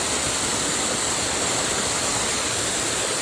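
A waterfall at a riverside fishing spot roars as a steady, dense wash of falling water, loud and close, with no break for the whole stretch.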